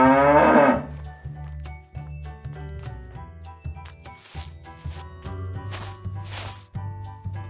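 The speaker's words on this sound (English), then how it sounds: "These are our cattle." Cattle on a farm low and moo in repeated deep, drawn-out calls, loud and close, with brief scuffling sounds between them and no talking.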